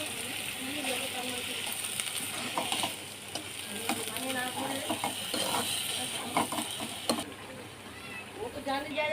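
Bottle gourd greens cooked with shrimp fry and sizzle in spiced oil with turmeric and chili powder, a steady crackle under stirring and scattered clinks, with a voice talking over it throughout.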